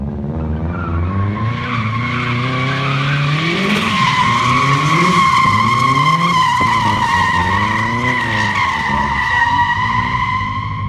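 A big-turbo, rear-wheel-drive-swapped Subaru drifts with loud, sustained tire squeal and skidding over a high revving engine, the whine rising and falling steadily throughout.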